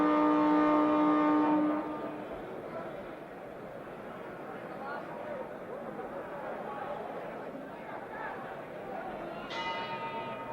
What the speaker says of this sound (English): The bell for round 8.